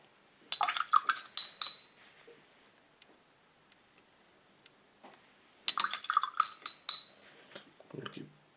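Light clinking and tapping from mixing paint with painting medium on a palette for miniatures, coming in two dense bursts of quick close scrapes and ticks separated by a quiet pause, no voices.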